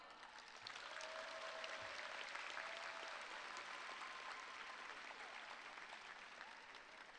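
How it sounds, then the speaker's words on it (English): A high school graduation crowd of families and graduates applauds in a large space, a broad, even roar of distant clapping that swells and sustains without a break. "Give them a big round of applause."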